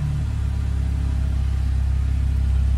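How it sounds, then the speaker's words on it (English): A white 2018 BMW 420i M Sport Cabriolet automatic fires up and settles into a smooth, deep, steady idle, its low rumble close and even for the few seconds that follow. "I'll just start the car up"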